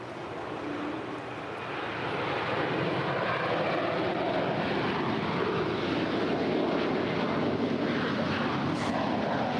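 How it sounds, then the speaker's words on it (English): Qantas Airbus airliner, about eleven years old, departing for Melbourne from LAX: a steady broadband jet roar that swells after the first couple of seconds and holds loud and continuous, with no voices. "Qantas flight 7780 departing to Melbourne."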